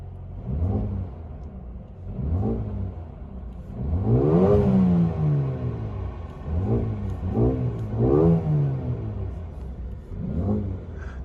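Mercedes-AMG A35 sedan engine in Sport Plus revving repeatedly, a series of deep rising and falling blips, some longer and louder, with a steady low rumble between them, heard from close by.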